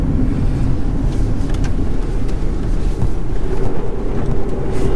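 Interior cabin noise of a Skoda Yeti cruising at about 100 km/h, a steady low rumble of road and wind noise with no talking.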